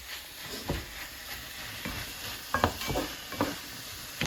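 Picked, drained saltfish being stirred with vegetables in a pan for Jamaican ackee and saltfish: soft scraping strokes and light clacks of a utensil over a quiet, steady sizzle, close and fairly faint.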